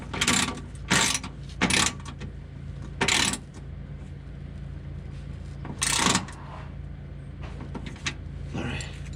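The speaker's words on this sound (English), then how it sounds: "But now I'm putting up these 3 bolts" Bolts are tightened on a Zspeed undershroud for a Nissan Nismo, several short bursts of ratchet clicking close up, separated by quiet pauses.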